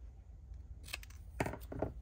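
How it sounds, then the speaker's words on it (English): Scissors cut a paper tag for a craft folio in three quick, quiet snips close by, after a moment of near silence. "I wonder if I can kind of cut this down a little bit"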